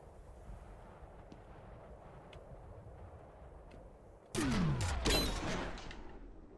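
A grenade explodes in the first-person shooter F.E.A.R., a sudden loud blast with a falling whoosh and rumbling debris that bursts out of quieter ambient game noise and slowly decays over two seconds.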